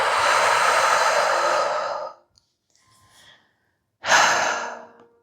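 A deep, breathy exhale during a yoga flow lasts about two seconds and trails off. After a short near-silence, a second strong breath follows, close and clear, with no talking.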